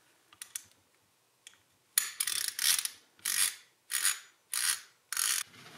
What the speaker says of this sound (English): This tool digs into the brass drain and is spun with a 1/2 inch ratchet.